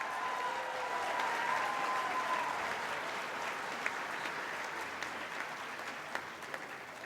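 Audience at a health professions white coat ceremony claps steadily in a sustained, even round of applause from a large hall crowd, with a few sharper claps standing out near the end.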